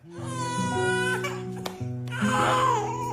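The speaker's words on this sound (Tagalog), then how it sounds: "Pag kasi boy umiiyak ng ganyan" A young boy cries loudly and close, wailing in long tonal sobs that break and resume, with a catch in the breath partway through.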